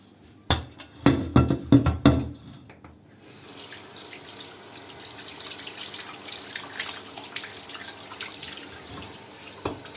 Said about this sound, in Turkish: Şimdi yıkayalım.